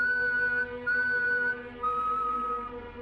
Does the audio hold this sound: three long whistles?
yes